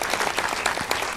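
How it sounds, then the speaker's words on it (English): An audience at an evening lecture at Griffith Observatory applauds a guest speaker, a steady wash of many hands clapping at moderate distance with a few sharper individual claps standing out. "Can we have another round of applause for our marvelous guest speaker?"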